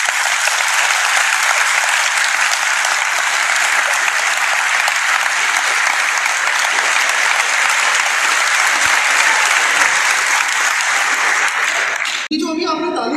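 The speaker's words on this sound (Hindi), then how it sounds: "जो अभी आपने तालियां बजाई ना, इन तालियों को बोलते हैं रैंडम क्लैप्स" A hall audience at Alhamra Hall bursts into sustained, dense applause, many hands clapping together at a loud, steady level for about twelve seconds before cutting off abruptly as a voice begins.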